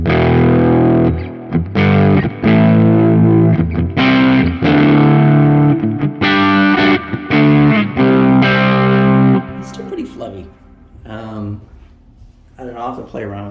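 Electric guitar through a pedal capture on a Quad Cortex, with distorted chords and riffs ringing loudly in short bursts, followed by quieter single notes trailing off at the end.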